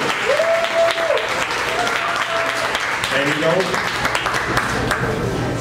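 A crowd in a room applauds steadily under a talking voice, with cheers and whoops rising above the clapping.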